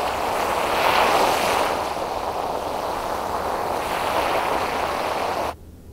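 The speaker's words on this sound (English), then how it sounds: "It definitely sounds like an ocean sound" Synthesized ocean surf generated by a stochastic model washes as a broad, continuous noisy roar, swelling near the start and then holding steady before cutting off abruptly near the end.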